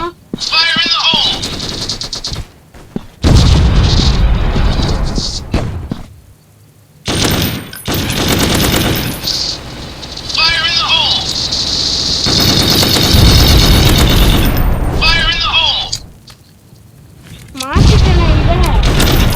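Loud automatic gunfire and booming shots from a shooting video game come in long rapid bursts separated by short gaps, with a voice talking over parts of it.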